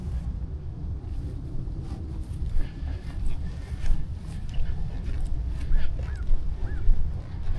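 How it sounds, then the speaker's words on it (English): An American crow calls a few times off to one side near a historic battlefield. The caws are faint and distant against a steady wash of outdoor noise. "There they called off to our left. Sounds like American crow"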